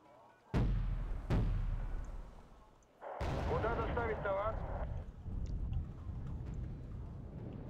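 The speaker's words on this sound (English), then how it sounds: "I'm firing some pods into Fetter the town" Rocket pods fired into a town in the Wargame: Red Dragon strategy game: two heavy booming launches in quick succession, then a rumbling barrage with a warbling tone, and a low roar trailing under it.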